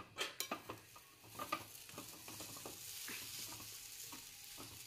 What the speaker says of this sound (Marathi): आता आपण झाकण उघडून शिरा नीट हलवून घेणार आहोत।